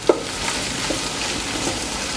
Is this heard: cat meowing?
no